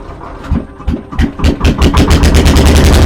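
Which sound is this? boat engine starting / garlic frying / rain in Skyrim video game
boat engine starting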